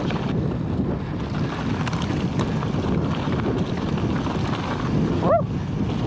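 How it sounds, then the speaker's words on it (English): Strong wind roars and buffets the microphone steadily throughout, out on a rugged local trail, with a brief faint squeak near the end. "Whoa, the wind is so crazy. I can feel it blowing"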